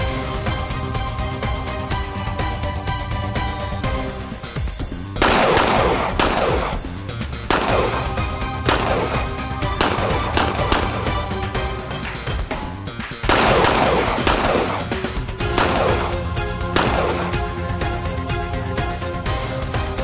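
Pistol gunshots fired at electronic targets on a shooting range, sharp loud reports in quick pairs and bursts spread across the span, with clusters of rapid shots standing out and no speech.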